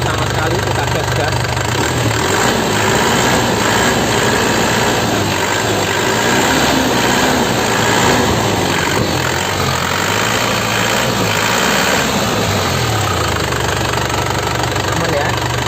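A 2005 Grand Touring with a manual gearbox runs loud and close, its engine droning steadily with a rough mechanical chatter throughout, and no distinct rise in pitch.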